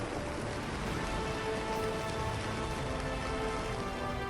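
Heavy, continuous rain pours down in Himachal, a dense unbroken hiss that stays loud and even throughout, with no voices.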